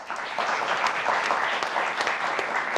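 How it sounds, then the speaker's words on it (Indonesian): Studio audience applause at a televised Indonesian talk show, steady dense clapping from a crowd filling the whole moment without a break, fairly close and even in loudness. "Boleh tepuk tangan untuk BHS"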